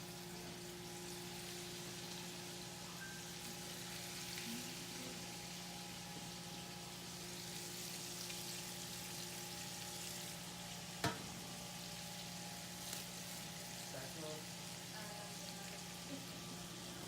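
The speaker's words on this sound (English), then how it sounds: "a good sign of your pan is hot enough if you get that little sizzle" Chicken sizzling in a hot pan, a steady, faint crackling hiss that runs throughout, with a brief clank partway through.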